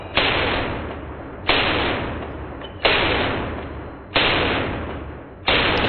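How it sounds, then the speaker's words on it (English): An AK pistol fired one-handed like a handgun, with no sling, lets off five loud, evenly spaced shots, each a sharp crack followed by a long, ringing decay. "with no slings and just shooting it like a handgun, the gun's moving up and down"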